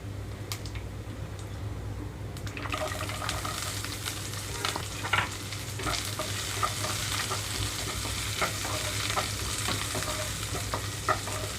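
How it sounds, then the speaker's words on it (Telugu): Chopped onions and green chillies drop into hot tempering seeds for okra curry, breaking into a steady sizzle with scattered spoon taps and crackles, close and without voices. "తాలింపు గింజలు కలర్ మారేటప్పుడే ఇందులోకి కట్ చేసి పెట్టుకున్న ఉల్లిపాయ అలాగే పచ్చిమిరపకాయలు కూడా వేస్తున్నానండి"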